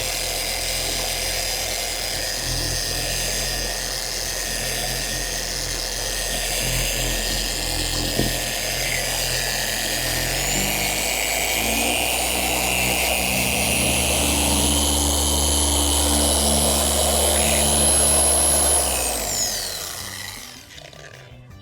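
A machine polisher whirs at a steady high pitch while applying ceramic metal polish to bare metal, the motor speeding up later before spinning down and stopping.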